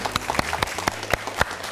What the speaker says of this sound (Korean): 수고해준 우리 세 여학생에게 다시 한번 큰 박수 부탁드리겠습니다